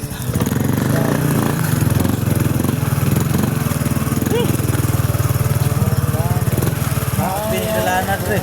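A motorcycle rides over a rough dirt road, its engine droning loud and steady with a buzzing, pulsing note that eases slightly near the end, while voices talk nearby.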